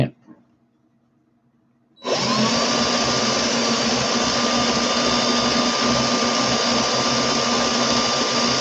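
A battery-powered drill, used while building coils, starts abruptly after near silence and then runs at a steady, loud, continuous whir until the end.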